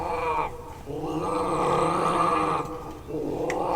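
A person imitates an angry cat with a long, harsh, growling yowl, loud and close, rising and falling over a few seconds.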